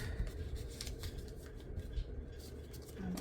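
Scissors snip and trim excess paper for a junk journal, faint quick cutting and rustling strokes close by, low in level.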